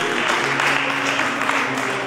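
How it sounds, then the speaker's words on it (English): A church congregation clapping together in sustained applause, a dense, even wash of hand claps filling the room without a break. "Give the Lord a clap for him."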